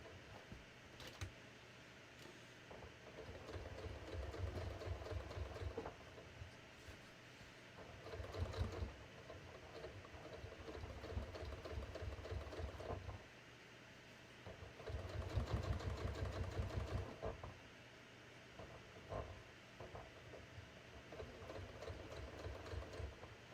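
Sewing machine slowly stitching jeans, giving a low motor hum in several uneven runs with brief pauses between them.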